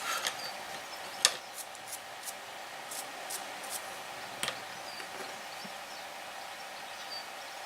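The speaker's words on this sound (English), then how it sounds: "Bit of a file down on the bolt rifle muzzle" Filing the muzzle of a small plastic bolt rifle miniature during a Dark Imperium model build, faint scratchy rasping strokes with a few sharper clicks and ticks, close and quiet against a low background hiss.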